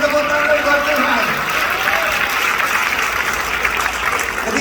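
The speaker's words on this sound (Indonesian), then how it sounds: "Tepuk tangan buat Tuhan." A congregation claps at a church anniversary service, sustained applause filling the hall with cheering and voices mixed in throughout.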